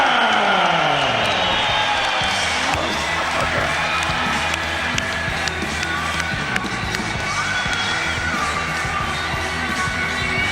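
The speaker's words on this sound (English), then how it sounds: "The crowd on their feet there for their new champion." A crowd at an ACB mixed martial arts event cheers a new featherweight champion, a sustained loud roar of cheering, yelling and whoops that fills the arena, with a few sharp shouts standing out.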